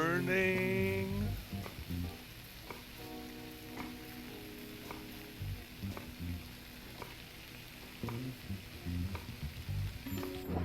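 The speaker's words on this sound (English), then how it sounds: "Cooking our fries, cooking our fries." Fries frying in a restaurant kitchen, a constant crackling sizzle with stirring and clattering over a busy background hum.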